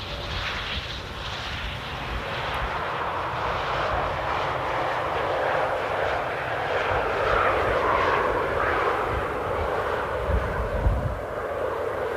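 Airliner arriving on approach at Amsterdam Airport at sunset, a continuous broad engine roar that stays fairly steady and distant-to-moderate in loudness for about twelve seconds.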